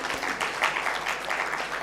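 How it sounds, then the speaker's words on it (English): An audience at a women's economic empowerment forum in Kenya breaks into a short round of clapping. The applause is steady and moderately loud, and no voices are heard. "I think we need to give ourselves a clap."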